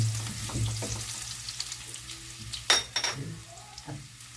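Garlic, four cubes' worth, sizzles and frys in a pan as it's stirred for lechon paksiw, a steady close crackle with a few sharper scrapes and clinks of the utensil against the pan.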